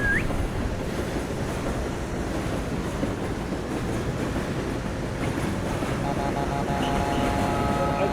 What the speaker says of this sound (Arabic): اوه شوف القطار. هذا قطار رابط بين الرياض